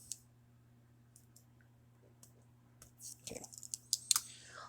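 Typing on a computer keyboard: sparse single key clicks early on, then a quicker cluster of taps near the end, faint and close in a quiet room with a low steady hum.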